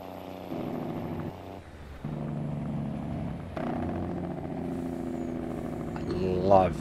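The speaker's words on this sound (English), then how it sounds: "I love the sound of this truck." A heavy truck engine in the video game Farming Simulator 19 drones with a deep, steady rumble, its pitch shifting as gears change, ending with a brief rise in revs.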